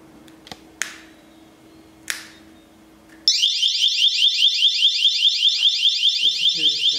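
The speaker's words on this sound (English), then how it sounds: "the security screen will alarm" After a few sharp clicks, a smartphone security display stand's loud electronic alarm starts and keeps wailing in a fast, steady warble until the end.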